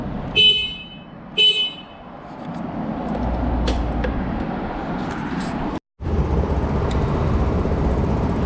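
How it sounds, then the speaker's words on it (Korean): A Daelim Delino 100 scooter's stock horn gives two short, thin honks in quick succession, followed by idling engine noise and faint background clatter. "현재 경적 소리는 이 정도입니다"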